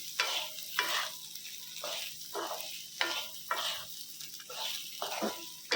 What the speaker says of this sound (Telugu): ఇప్పుడు మళ్ళీ ఒక ఐదు నిమిషాలు వేగనిద్దామండి